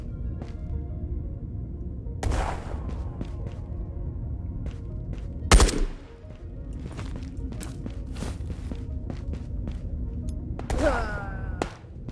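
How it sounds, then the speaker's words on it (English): A grenade blast and gunfire in a raid shooter game: sharp bursts of shots and a single loud, booming explosion near the middle, over a steady low rumble of background noise, with no talking. "I think that guy just killed himself with a grenade."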